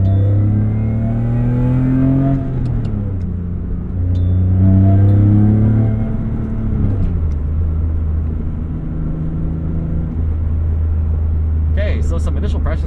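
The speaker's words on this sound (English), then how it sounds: "some initial impressions of that Turner intake. It's very loud." BMW E46 M3 track car with a Turner intake, loud close engine revving and rising and falling through gears, strong harmonic sweeps climbing and dropping several times with a deep intake roar, on a racing circuit.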